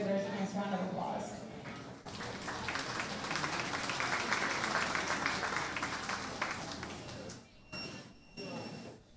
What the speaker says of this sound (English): Let's give these exhibitors a nice round of applause.